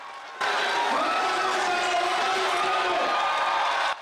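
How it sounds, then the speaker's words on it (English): Hundreds of students at Bayero University, Kano, cheer and sing together in a loud, dense crowd roar with whoops, holding steady for a few seconds before cutting off abruptly. "Hundreds of students welcomed the dignitaries with cheering songs of support."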